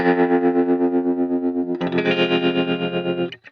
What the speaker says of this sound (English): This is a really nice plugin that will give me this kind of tremolo.